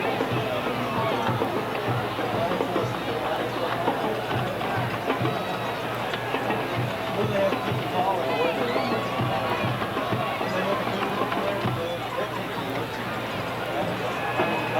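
Dense crowd noise fills a packed stadium at a high school state semifinal football game between Oak Ridge and Riverdale at Blankenship Field, with steady babble and cheering continuing at a roughly even level throughout.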